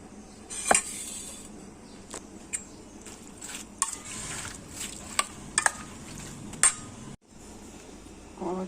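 A spoon clinks and scrapes against a bowl while cream is mixed into fruit chaat, giving irregular close clatters and taps with quieter stirring in between.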